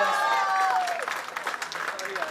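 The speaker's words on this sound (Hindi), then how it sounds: "जोरदार तालियां" Guests at a Bollywood success party applaud, the clapping swelling after a voice trails off and continuing in uneven bursts with crowd noise around it.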